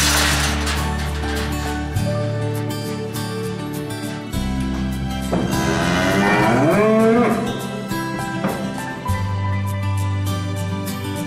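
Cattle mooing in a barn at milking time, several long, loud, drawn-out lows with rising and falling pitch that follow one another over continuous background noise and occasional metallic clinks.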